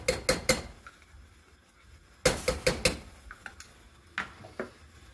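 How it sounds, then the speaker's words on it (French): Utensil stirring tomato concentrate into a sauce in a pan, heard as clusters of sharp metallic clinks and scrapes against the pan, two quick bursts of several knocks with a few lighter taps after, close and without talk. "On remue."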